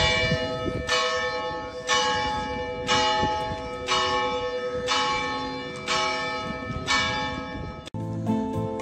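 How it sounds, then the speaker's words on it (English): Church bells ring out in the old town of Altea, Spain, clanging in a steady pealing rhythm roughly once a second, loud and resonant, before breaking off abruptly near the end. "And the bells are going right on time."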